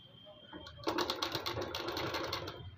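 A sewing machine stitches a suit lining with a half-inch seam, starting after a brief pause and then running in a fast, steady mechanical rattle close by, with a voice talking over it.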